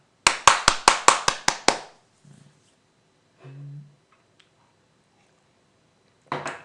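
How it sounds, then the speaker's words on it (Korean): Seven sharp, evenly spaced claps ring out close and loud, then fall silent apart from faint scattered noises and a brief low hum, before another burst of clapping begins at the end. "환희의 박수를 나가겠습니다"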